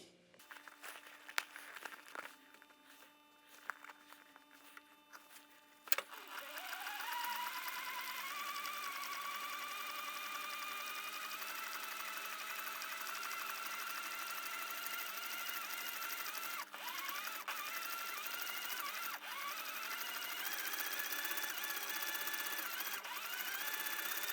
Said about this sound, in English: now that's ready to go to the sewing machine,